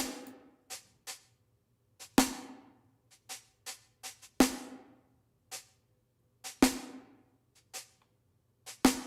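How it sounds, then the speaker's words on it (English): A snare drum with room reverb plays alone in a jazzy beat, its sharp hits arriving in a steady, syncopated pattern. Each strike carries a short, roomy decay tail, with softer ghost notes between the louder accents. "I've got a reverb on the snare already, but it's kind of like a room reverb."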